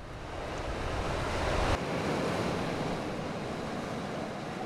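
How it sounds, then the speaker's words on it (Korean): Waves wash steadily onto a seashore on a fog-cleared coast, a continuous broad surf roar with wind noise and a soft swell partway through. "오랜만에 안개가 걷힌 바닷가."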